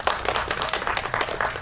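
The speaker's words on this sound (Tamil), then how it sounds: "முதல்ல நம்ம கைத்தட்டி பாராட்டு சொல்லுவோம்." An audience claps in applause at a Tamil film event, a dense, steady patter of many hands held at even loudness for a short stretch with no voices.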